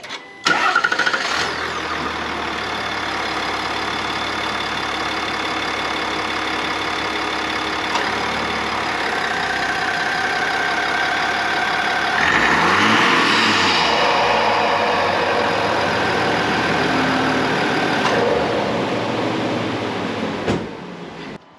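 A 3.0 Duramax diesel pickup engine with a carbon intake pipe cranks and catches around the midpoint, then settles into a steady, loud idle with a low rumble that continues to the end.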